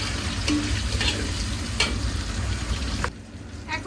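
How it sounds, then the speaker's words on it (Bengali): Tomatoes going into hot frying oil with green chilies and onion for a curry: loud steady sizzling with a few stirring scrapes, then the frying drops to a softer hiss near the end. "এখন দিয়ে দেবো টমেটো"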